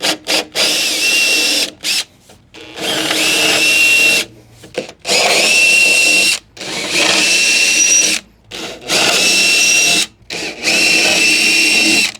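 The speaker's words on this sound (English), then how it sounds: "Now I'm just going to use the 7mm drill bit to go through the Yakima mounting bolt holes" A power drill with a 7mm bit whines loudly in repeated long bursts, boring bolt holes for a vehicle roof rack platform, with brief silent pauses between each run.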